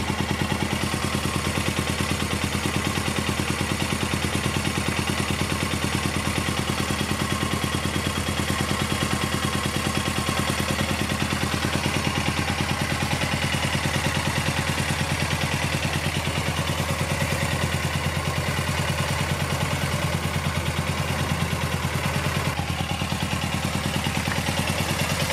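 A Suzuki GS500F EFI motorcycle engine runs steadily just after its first start, a loud, close, continuous mechanical drone with a faint clatter, holding an even idle without clear revving and with no voices.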